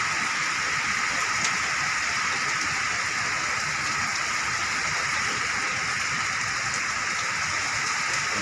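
Heavy rain pours steadily during a thunderstorm in Makati, a dense, even hiss of downpour on surfaces with no thunder standing out, constant and moderately loud.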